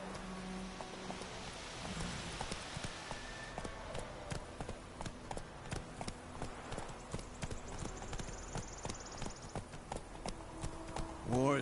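Roach the horse's hooves clip-clop steadily in the game Witcher 3, a rhythmic, moderately close trotting beat that carries on throughout under background game sound and occasional talk.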